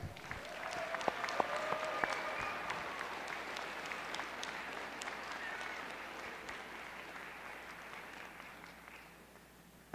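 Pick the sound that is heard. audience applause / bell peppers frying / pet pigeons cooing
audience applause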